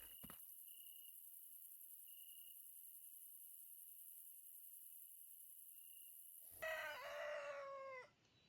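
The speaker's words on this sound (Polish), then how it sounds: "kogut zapiał" In the game Recycling Center Simulator, after a long quiet stretch with a thin electronic tone, a rooster crows once, clear and fairly loud, then the sound cuts off.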